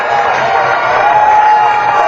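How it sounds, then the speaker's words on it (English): A large stadium crowd cheers and roars steadily at the 2013 Bradby Shield schoolboy rugby match between Royal College and Trinity, a loud, sustained wall of voices with no break. "Big cheer."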